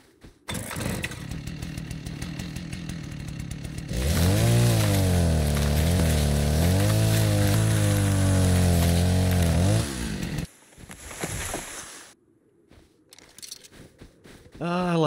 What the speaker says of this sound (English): We are definitely making a chainsaw.